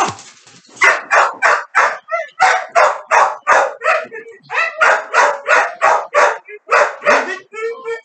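Several trained dogs bark loudly and close in rapid, steady bursts during a temperament-testing training session, barks coming almost continuously with brief yips in between.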